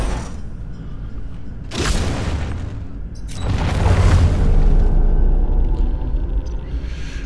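Grenade blasts in the tactical video game Into The Breach: two broadband booming bursts a second or so apart, the second swelling into a longer rumbling roar before settling into a low hum.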